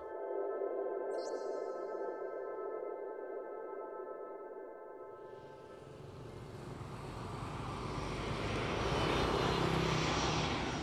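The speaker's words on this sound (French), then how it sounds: "Johnny Chen, un New-Yorkais, décolle pour Hanoï, au Vietnam." A fixed-wing airliner takes off, its steady engine whine giving way to a swelling, broad jet roar that builds and stays loud to the end, heard close and alone without any voices.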